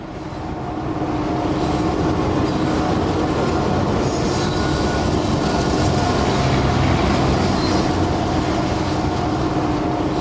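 Union Pacific empty coal train led by engine 6007 crossing a long bridge over a road in Auburn on the Donner Pass route, a loud steady rumble of wheels and cars with faint squeals, heard up close throughout.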